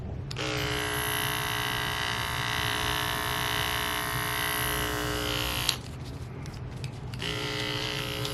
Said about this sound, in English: So I wouldn't say they're that loud, but they're a little bit obviously louder than the corded Fastfeeds.